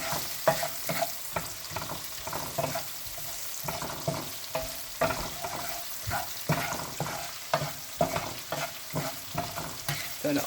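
Onion and seasoning fry on a low stove for Jamaican brown stew fish, a continuous soft sizzle broken by repeated scraping and stirring strokes in the pan, close and fairly quiet, with no talking.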